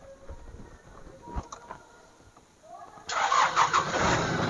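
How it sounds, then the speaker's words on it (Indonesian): A used car's engine cranks and catches, settling into a loud, steady idle for the last second and a half after a quieter stretch with faint background noise. "Nah, kita nyalain mesin ya, bos ya."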